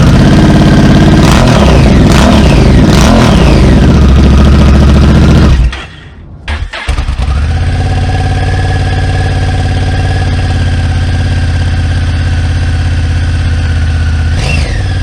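A Honda NT1100 motorcycle fitted with a Pipewerx exhaust end can and dB killer, loud and close, its engine revving hard, cutting out briefly, then settling into a steady, even idle with one small blip near the end.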